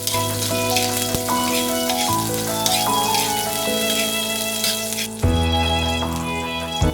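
Garlic and onion fry in hot oil for a beef and broccoli stir-fry, giving a steady close sizzle under sustained background music, with no speech.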